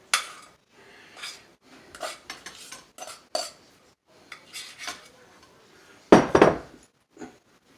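Scattered clinks, scrapes and knocks as homemade biscuit dough is turned out of a bowl, quiet and close, with one louder clatter near the end.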